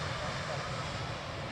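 An Embraer E195-E2 jet taxis at London City Airport, its engines giving a steady, even roar that holds unchanged from start to finish, moderately loud and a little distant.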